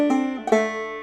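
A banjo measure picked with three hammer-ons, from the tune "Hog Eyed Man": bright plucked notes ring clearly and close, with a fresh attack midway through the short phrase, played alone.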